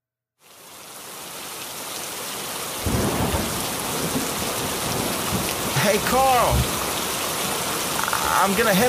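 Steady heavy rain pours down as a storm approaches in a post-apocalyptic Fallout setting, with low thunder rumbling in and swelling partway through, continuous and fairly loud with no voices.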